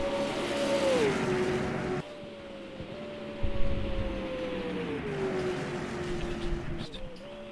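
V8 race cars in a league round at Pukekohe circuit, engines roaring past with shifting pitch as they accelerate and lift, a loud continuous drone with a brief surge near the middle.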